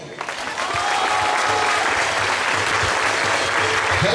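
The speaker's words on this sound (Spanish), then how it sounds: "El aplauso fuerte, el aplauso enorme" Crowd applause at an orchid expo ceremony in Tenango de las Flores, steady and full after a brief softer start, with continuous clapping from a gathered audience at moderate distance.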